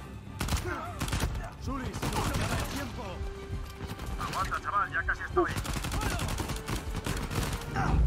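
Video game machine gun fire in Uncharted 4 comes in rapid, loud bursts of sharp shots, mixed with other gunfire and impacts. A player's voice talks intermittently over the shooting.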